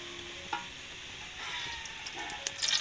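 Lemongrass frying in a pot with chicken thigh and chili, a steady close sizzle with occasional stirring scrapes and clinks that grows brighter toward the end.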